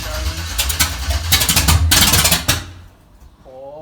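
A car engine makes an odd pulsing whoop, with loud rhythmic surges repeating about every half second and then fading to a quieter hum at the end.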